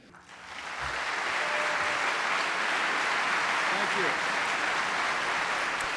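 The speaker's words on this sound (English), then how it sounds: "An appreciative crowd here in Detroit" A Detroit crowd applauds after a former Vice President's speech, a broad steady wash of clapping that swells in within the first second and holds evenly, with a brief spoken thanks near the start.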